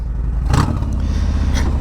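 Harley-Davidson Softail Fat Bob with a Bassani 2-in-1 exhaust, a loud close low engine rumble with a couple of sharp revs or clattering bursts while riding.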